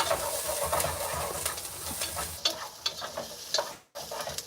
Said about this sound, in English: Then we're gonna saute. And we're about medium heat, a little bit lower than medium heat.